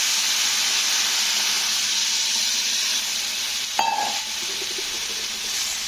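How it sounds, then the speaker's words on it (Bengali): Water poured into a pan of frying vegetables: steady loud sizzling hiss, then a sudden splash and bubbling change as the liquid hits the hot pan. "তো এবারে আমি জলটা দিয়ে দেব।"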